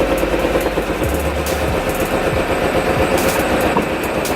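A Mazda Miata engine runs steadily just after starting, a close, continuous low rumbling idle with no talk over it.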